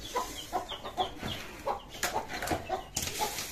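Tiger chickens cluck in repeated short, uneven bursts while being fed their morning feed of ground-up chicken food, the calls close and overlapping with scattered pecking and rustling.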